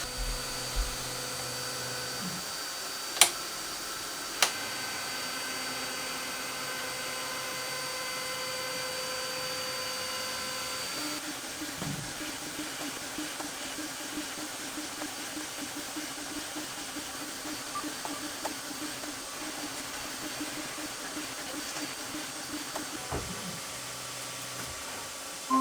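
The tray of an eufyMake E1 UV printer shuttles back and forth while printing, a steady whirring hum with faint periodic shifts and a couple of sharp clicks early on.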